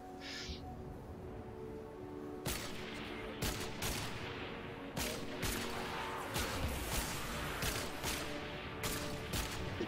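Sniper and other gunfire during an attack in Fortnite: after a quiet opening, a series of sharp, loud shots rings out at irregular intervals over a low game backdrop.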